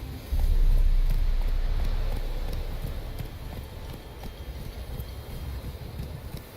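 Galloping hooves of Roach, a horse in The Witcher 3 game, pound in a steady rhythmic clip-clop close by, loud at first then easing slightly, with wind-like background rumble and no talking.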